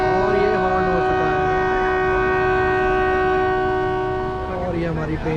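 A heritage train on the Mhow–Patalpani–Kalakund line sounds a long, steady horn at Dr. Ambedkar Nagar station as it departs, loud and sustained before fading slightly near the end.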